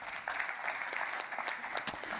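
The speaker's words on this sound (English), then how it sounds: "Please give them a round of applause." A conference audience at a blockchain and supply-chain sustainability event applauds with steady, dense clapping of moderate loudness, heard on its own without talk.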